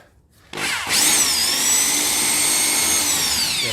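A power drill in chisel mode works on a wall, starting after a short quiet moment with a loud, close hammering whine that holds steady to the end.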